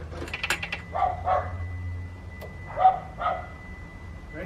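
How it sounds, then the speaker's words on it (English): Several dogs bark in short bursts at a distance, a cluster early on and a couple more later, over a low mechanical hum. "bunch of dogs barking in the back."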